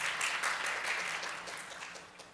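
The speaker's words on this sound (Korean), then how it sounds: "다시 한번 유병준 교수님께 큰 박수 한번 부탁드리겠습니다." A forum audience applauds a professor after his talk, with a full round of clapping that starts strong and gradually thins and fades toward the end.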